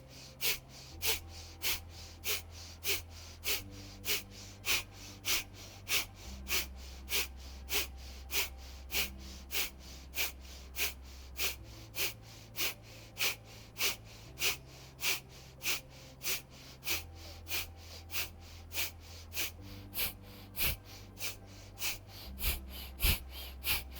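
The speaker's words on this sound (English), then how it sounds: "begin our powerful breathing, either breath of fire or long and deep" Rapid, rhythmic breath-of-fire breathing during a yoga core exercise: sharp nasal exhales pumped out at an even quick pace for a long stretch, with a faint low musical drone underneath.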